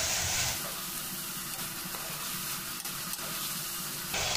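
Onions fry in a pan as the base for a mutton drumstick curry, giving a steady, fairly faint sizzle with soft stirring and no talk.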